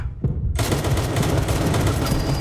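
Gunfire while shooting enemies on the moon in the Roblox game 7 Days To Live: after a near-silent start, a loud, dense, unbroken stream of rapid shots fills the rest of the clip.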